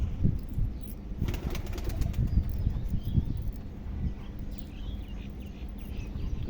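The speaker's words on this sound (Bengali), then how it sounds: "এইখানে আরেক জোড়া কবুতর আছে" Pigeons at a home loft make fluttery wing flaps and soft shuffling bursts close by, with faint cooing and steady background noise throughout.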